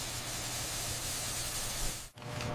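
A cooling chemical solution releases a steady hiss of steam that continues without a break, drops out briefly near the end, then resumes, with no talking.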